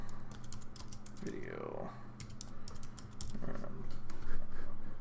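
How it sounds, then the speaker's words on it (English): Quick bursts of clicky computer keyboard typing as a name is entered into 3D design software, close and crisp, with someone talking over parts of it. "To change that, you just click on it, and we'll type in 28mm barrier"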